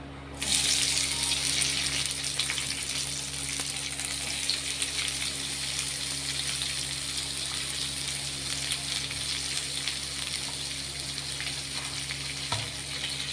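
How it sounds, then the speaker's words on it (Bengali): Chopped onion fries in oil tempered with cinnamon, cardamom and bay leaf, a loud steady sizzle that starts abruptly as the onion hits the pan, with a low hum beneath and a faint clink near the end. "আর পেঁয়াজটা আগে ভাজা হতে দেবে, তারপরে রসুন ভাজা করে দিয়ে দেবে।"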